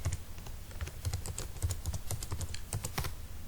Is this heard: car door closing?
no